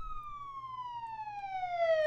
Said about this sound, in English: No, that's his siren.